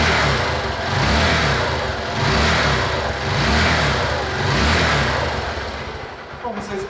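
A motorcycle running after a cylinder-head rocker arm replacement: a steady, loud, close mid-pitched engine drone that swells and eases in slow waves as if gently revved, continuing throughout.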